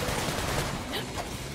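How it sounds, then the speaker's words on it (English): Enemy gunfire in Sunset Overdrive, a steady wash of rapid shots and combat noise running continuously, dense and mid-distance, with game effects layered over it. "where the hell is this guy shooting stuff at me from?"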